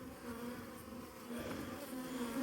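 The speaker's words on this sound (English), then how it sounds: "Oh, watch out, bees, get out." Bees buzzing steadily around an open beehive during a hive inspection, a continuous close drone that swells slightly louder partway through, with no talking.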